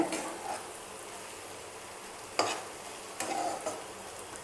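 Spicy egg masala being turned and fried in a pan, a soft, fairly quiet sizzle broken by a few short bursts of stirring and scraping near the start, in the middle and toward the end.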